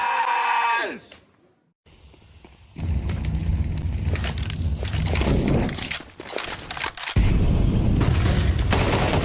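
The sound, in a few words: SMG gunfire in video game Counter-Strike 2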